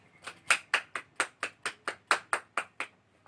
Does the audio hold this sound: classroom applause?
yes